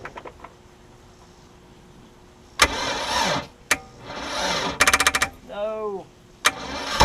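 A Mercruiser 3.0 boat engine on a Stingray, sitting unused for nine years and fitted with a new fuel pump and carburetor, cranks in short bursts and briefly catches, sputtering and dying rather than settling into a steady idle.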